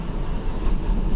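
MRT metro train on a city avenue in Pasig, a loud, close, continuous low rumble filling the short moment, no talk.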